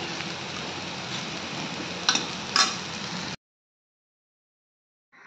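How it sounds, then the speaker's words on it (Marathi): Sabudana khichdi mixed with crushed peanut and chilli powder is stirred in a pan, a soft continuous rustling with two quick spoon clicks, then it stops abruptly into silence. "आणि आता आपण खिचडी टाकून घेऊयात आणि सर्व मिक्स करून घेऊयात"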